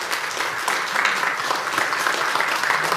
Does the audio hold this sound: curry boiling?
no